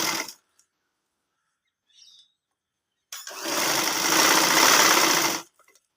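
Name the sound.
sewing machine stitching a ladies side pocket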